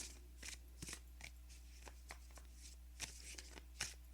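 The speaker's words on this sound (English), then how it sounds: "we're going to go ahead and pull some oracle cards for pile number 2" Oracle cards being shuffled by hand during a card reading, a series of soft riffling swishes and taps at irregular intervals, close and fairly quiet, with no voices.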